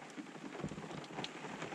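Steady rain falls outdoors in a continuous broadband patter of drops, fairly close and even, with no voices over it.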